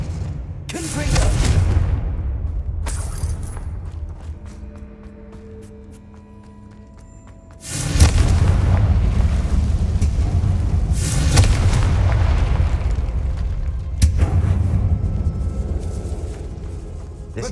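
In Hogwarts Legacy, a Confringo fire spell goes off in a decaying catacomb with loud booming blasts, two heavy bursts with a quieter stretch between and further impacts that rumble on over a low game soundscape.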